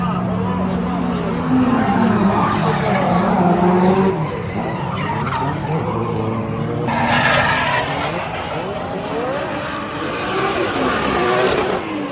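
Tires squeal continuously as a Toyota AE86 skids and drifts, engine revving underneath, with voices faintly audible in the background.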